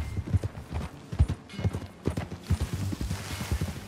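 Horse hooves in the video game Red Dead Redemption 2 beat out a steady, close clip-clop at a riding pace, with no talking.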